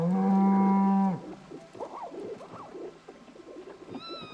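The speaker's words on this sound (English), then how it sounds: "Here's my cow." A cow in the video game Project Zomboid lets out one loud, sustained moo at close range, followed by quieter farmyard chatter of other animals and a brief higher call at the end.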